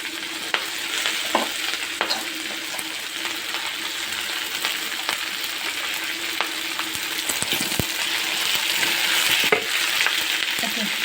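Drumstick leaves frying in a pan with softened tomato for chutney make a continuous close sizzle, broken by light scraping stirs and occasional utensil taps.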